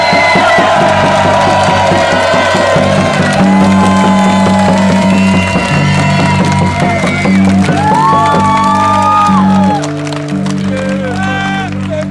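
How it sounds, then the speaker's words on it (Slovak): Crowd at a memorial tribute to Peter Dubovský breaks into loud, sustained cheering and whooping with applause, a dense roar lasting the whole stretch and easing slightly near the end. "Poprosil by som potlesk, aký si Peter Dubovský aj zaslúžil."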